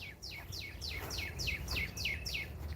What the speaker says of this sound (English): Those are baby birds. They might be hummingbirds.